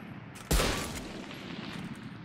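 A single sharp, loud Operator sniper rifle shot in Valorant cracks out and decays over about half a second, with game ambience continuing underneath.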